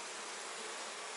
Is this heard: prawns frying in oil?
no